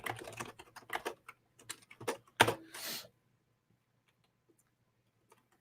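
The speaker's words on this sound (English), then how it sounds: "It may help if I can type this morning." Quick bursts of typing on a computer keyboard, close and fairly loud, with uneven rhythmic clatter for about three seconds before falling silent; no speech.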